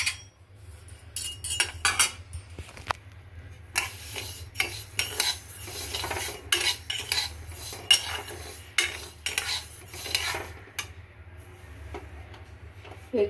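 Mung dal dry-roasting in a pan on low flame, stirred with a utensil: soft scraping and light tapping clinks in an irregular rhythm over a low steady hum, fairly quiet and close.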